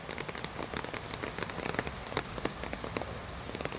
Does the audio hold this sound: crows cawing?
no